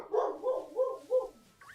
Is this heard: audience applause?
no